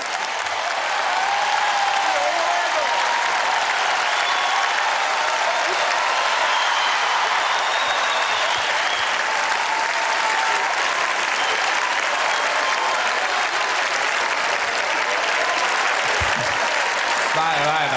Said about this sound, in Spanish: Recibamos con un fuerte aplauso a Quique Pérez.